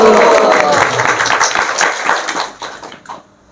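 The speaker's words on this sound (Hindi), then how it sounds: "एक बार ताली बजा के सबके लिए हरि बोल" An audience at a devotional Bhagavad Gita talk claps together, a dense burst of applause that thins into scattered claps and fades out within a few seconds.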